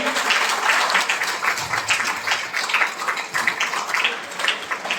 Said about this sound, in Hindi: आप सभी लोग जोरदार ताली आ जाइए